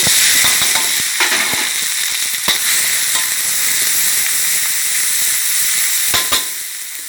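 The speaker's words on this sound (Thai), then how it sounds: "ตั้งกระทะเลยนะคะ น้ำมันโอลีนค่ะ หนึ่งช้อนแกงใส่ลงไปเลยหนึ่งที" Oil in a wok sizzles and crackles steadily for a Thai stir-fry of shark with white turmeric, with scattered sharp pops and spatters over a constant hissing fry, close and without talk.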